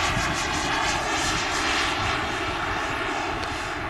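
An HSD Jets T-45 Goshawk model jet flies in to land at golden hour, its turbine roaring loud and steady throughout with a faint whine on top.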